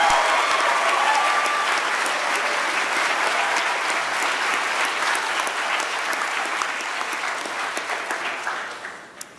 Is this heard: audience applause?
yes